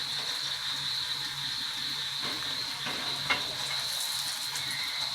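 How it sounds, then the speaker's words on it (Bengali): A sweet and mildly spicy mango paratha fries in a pan, giving a steady even sizzle, close and unbroken, with a few faint scrapes and one small knock partway through. "লাল লাল করে এটাকে ভেজে নেবো।"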